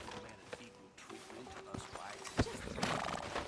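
A horse clip-clops along at a walk in the video game Red Dead Redemption 2, the hoofbeats moderately close under game ambience, a faint snort near the end, and a voice speaking in the background.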